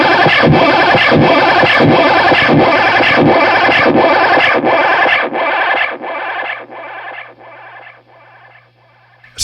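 Guitar delay repeats from a Belle Epoch Deluxe echo pedal pile up into a dense, rhythmic wash that slowly decays, each echo fainter, ending in a sustained low oscillating tone from the oscillation function.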